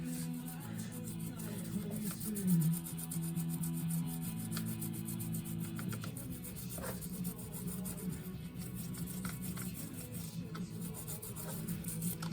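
Lubricant rubbed into a motorcycle chain by hand, a steady close scrubbing and rubbing noise that continues without a break.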